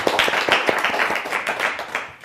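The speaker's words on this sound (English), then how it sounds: "Please give Tyler a round of applause." Lively clapping from an audience at a magic lecture greeting a volunteer, dense and continuous, fairly close and loud throughout.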